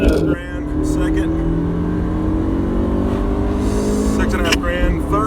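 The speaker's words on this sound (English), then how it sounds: "Do a tiny bit of a roll and start so I don't get as much wheel spin, and then full throttle." A 1989 Acura Integra accelerating at full throttle from a rolling start, its engine note loud and steadily rising through the gears in a continuous strained roar, heard from inside the car.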